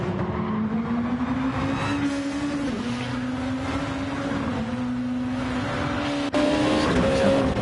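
Gr2 racing cars, an Audi and a Honda NSX, race at Spa in a racing game, a steady droning engine note with gear shifts and pitch dips, loud and continuous.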